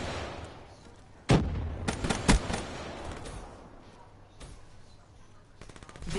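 Black Ops 3 combat: a sharp, heavy blast from a grenade explosion booms over scattered gunfire, followed by a few more bursts and distant pops, with faint background game noise and no talk.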